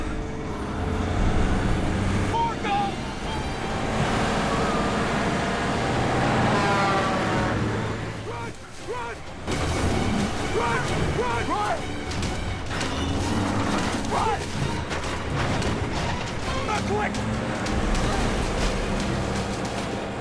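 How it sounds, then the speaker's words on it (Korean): A large truck roars past at speed, its heavy engine droning loudly under a busy, dramatic soundtrack with a brief dip midway. "갑자기 대형 트럭이 그들을 향해 전속력으로 돌진합니다"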